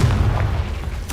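A Confringo fire spell explodes in Hogwarts Legacy, one loud, near boom with a deep rumble that fades over about a second, followed by a short crackle at the end.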